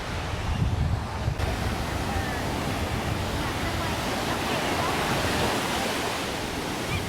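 Breezy wind and rolling surf on a hot, humid day at Destin beach, Florida, a steady broadband wash of waves and gusts filling the whole stretch without pause, close and fairly loud.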